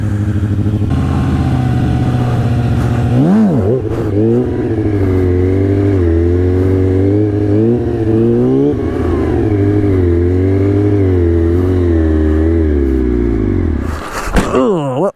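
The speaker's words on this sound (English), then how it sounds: "Stalled my bike out for the first time with the handbrake." A stunt motorcycle fitted with a hand brake runs steadily with a loud, continuous engine note and a few rises and falls in pitch, then the sound cuts off abruptly near the end as the bike stalls.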